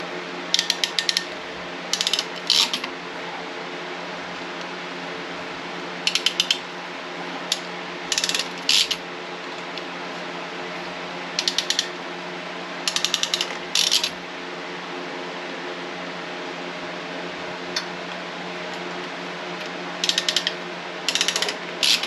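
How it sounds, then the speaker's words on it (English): Hose clamps being crimped with a hand tool on an RV water filter line: repeated short bursts of sharp metallic clicking and ratcheting, near and fairly loud, spaced out over a low steady hum. "Clamps in place and then clamp it down."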